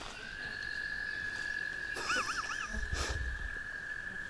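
American toad calling for a mate outdoors in spring, a long sustained high trill droning steadily throughout, with brief warbling birdsong and a rustle partway through.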